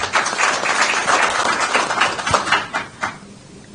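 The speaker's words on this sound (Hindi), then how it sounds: "तो पहले तो जरा जोरदार तालियां अपने लिए बजाइए।" Loud, dense applause from a large audience at a political address to the Indian diaspora, steady clapping for about three seconds before thinning out into scattered claps at the end.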